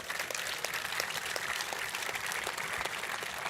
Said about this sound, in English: let's give a round of applause to the crew chiefs